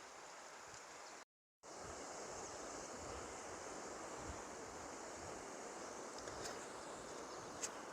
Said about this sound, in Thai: กลางเต็นนอนฟังเสียงน้ำไหล